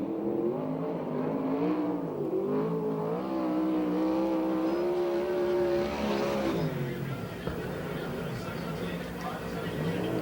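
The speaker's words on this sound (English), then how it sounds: "the first lap for Matt Rossi." A USAC/CRA sprint car laps the track at Perris, California, its engine droning steadily with rising and falling pitch as it circles, loud and continuous beneath an announcer's commentary.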